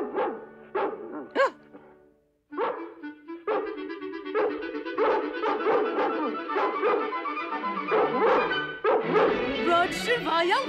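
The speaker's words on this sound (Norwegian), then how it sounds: "Noen ganger om natten så kan jeg høre dem bjeffe." Dalmatian dogs from the 1961 animated film 101 Dalmatians bark and yip in quick close bursts, first a few separate yelps, then a dense, continuous chorus of many dogs.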